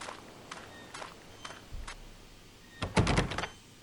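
A door opening in the 2007 PC adventure game Agatha Christie: Evil Under the Sun, a few soft clicks followed by a louder, close rattling burst of the door moving, with no talking.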